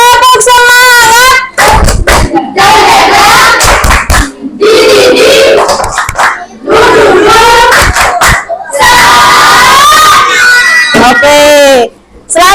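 A classroom of students performs a rhythmic spirit clap, chanting loudly together between bursts of sharp handclaps in an uneven pattern, with shouted voices dominating throughout.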